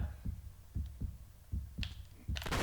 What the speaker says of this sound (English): Has a heartbeat always been that visceral?